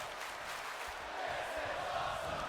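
Virtual arena crowd in WWE 2K22 during a wrestling match, a steady loud roar of massed voices that swells slightly as a chant builds, continuous throughout.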